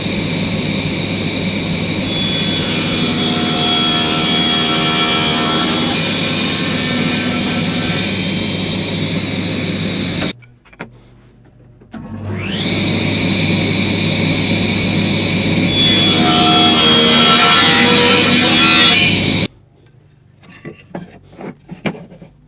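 A power saw cuts a mitre corner for a picture frame, its loud, steady motor whine running for about ten seconds, stopping briefly, then roaring again for several more seconds before cutting off.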